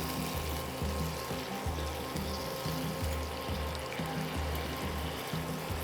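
A splash of water poured into spices frying in a pan for a Bengali bottle gourd shukto, giving a steady, close pouring hiss with a faint low rhythmic pulsing underneath throughout, no talk.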